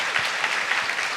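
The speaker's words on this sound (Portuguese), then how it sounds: "Uma salva de palmas a Rabino Shulam," An audience applauds Rabbi Shulam in a short, dense burst of many hands clapping, close and fairly loud, with no talk.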